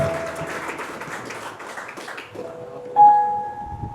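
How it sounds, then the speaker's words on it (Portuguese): A church congregation claps in a dense patter that gradually fades away, then sustained keyboard notes ring out on their own. "Dê uma salva de palmas para Jesus."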